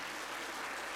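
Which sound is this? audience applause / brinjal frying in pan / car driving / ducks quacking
audience applause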